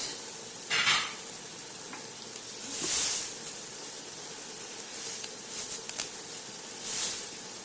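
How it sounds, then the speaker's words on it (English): Egg biryani korma with chopped mint and coriander sizzles in a pan while a spoon stirs it, sending a few louder scraping swishes over a constant soft frying hiss, close up. "I'm going to stir this and cook it for another 5 minutes"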